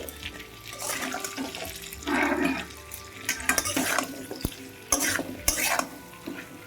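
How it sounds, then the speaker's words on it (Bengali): Potatoes are stirred in a pan with salt and turmeric: irregular scraping and shuffling strokes come in bursts with brief pauses, close and moderately loud, with no voices. "আলুটাকে এইভাবে নাড়িয়ে চাড়িয়ে নিচ্ছি লবণ হলুদের সঙ্গে"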